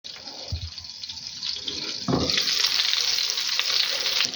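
Thick gravy bubbling and sizzling in a frying pan, a steady crackling hiss that grows louder and denser partway through, with a few soft clinks and stirring sounds near the start.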